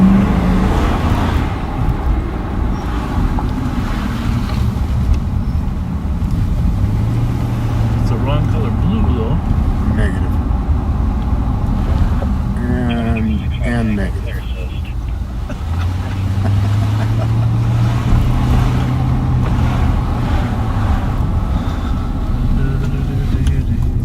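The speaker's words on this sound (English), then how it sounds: "What kind of car is that? Subaru, I believe." A Subaru car fitted with a roof rack gives a steady road-vehicle rumble throughout, with people talking over it the whole time.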